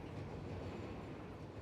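A train rolls steadily along rails in the Satisfactory video game, a continuous close rumble with faint clickety-clack and no voices.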